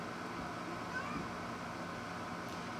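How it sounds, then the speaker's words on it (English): A house cat meows faintly in a quiet indoor room, a brief soft call over a low steady background hum, with no talking. "Here's my little kitty making an appearance."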